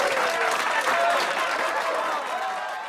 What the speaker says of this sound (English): please give a round of applause to the clever orange with glasses